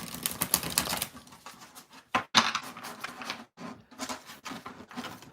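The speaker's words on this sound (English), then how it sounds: "I don't know if it's because I haven't totally broken in this deck with shuffling, but it's hard for me to do the bridge on it right now" A new Light Seer's Tarot deck is shuffled by hand, making rapid, crisp riffling clicks in several bursts separated by brief pauses, close and fairly quiet.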